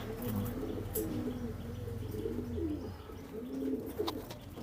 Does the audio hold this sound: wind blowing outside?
no